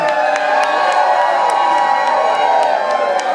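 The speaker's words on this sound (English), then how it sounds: "You cheer, you scoff." An audience at a live show at Tipitina's cheers and whoops loudly, a dense, continuous wash of many voices with no single clear speaker.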